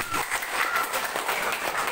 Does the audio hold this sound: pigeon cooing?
no